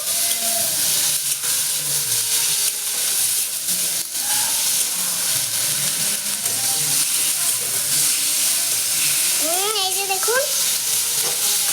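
Spices frying in a pan during village cooking, with a steady sizzle running the whole time as they are stirred, and brief speech over it.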